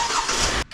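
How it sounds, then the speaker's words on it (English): A car engine catches and starts, a brief bright churning burst that cuts off abruptly near the end, fairly quiet and heard alone. "You can always hear the car going"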